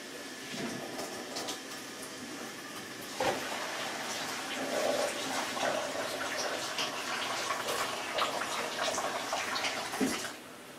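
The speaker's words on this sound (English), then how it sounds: "Just running a little bit of cold water to make sure we don't melt the pipes." Cooked pasta poured from the pot into a kitchen strainer, then cold tap water running into the sink, a steady broad splashing and rushing that holds throughout, close and fairly loud.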